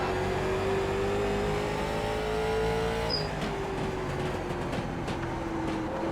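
A late model race car engine in the iRacing sim at Lanier National short track drones steadily and loudly, its pitch easing slightly as the throttle is modulated through a lap, with no talk over it.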